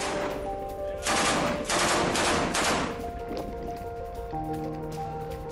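Gunfire during an IDF operation in southern Gaza, a rapid cluster of several shots lasting about two seconds over a steady droning background, fairly faint overall.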